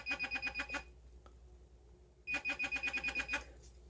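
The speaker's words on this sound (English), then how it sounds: "So that means we have vibration plus the beeping." Rapid electronic beeping from a VOLADOR handheld metal detector in two bursts, about six quick beeps each, separated by a short quiet gap with a faint click.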